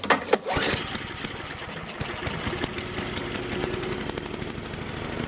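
A snow blower with a Tecumseh engine runs just after starting, a fast, steady small-engine chatter close up following a few sharp clatters at the start.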